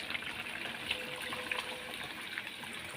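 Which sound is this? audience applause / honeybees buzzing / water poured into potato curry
water poured into potato curry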